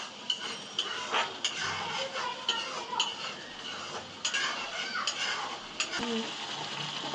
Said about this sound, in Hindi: और इसी तेल में हम प्याज का पेस्ट डाल देते हैं और फिर इसमें डाल देंगे सिंपल से मसाले।